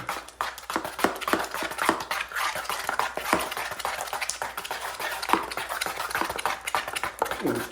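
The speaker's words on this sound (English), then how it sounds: "Mix it till the lumps get out and everything." A six-inch drywall knife works joint compound in a pan, making repeated wet scraping and clacking strokes at an irregular rhythm, close by and fairly quiet, with no talking.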